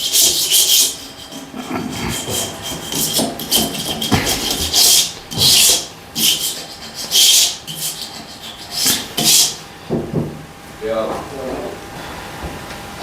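Bathroom floor tiles are scraped to clear grout: a run of rough, rhythmic rasping strokes repeats close by in steady bursts, then fades into quieter scratching.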